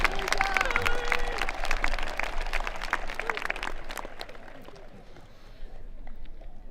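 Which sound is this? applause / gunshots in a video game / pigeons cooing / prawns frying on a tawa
applause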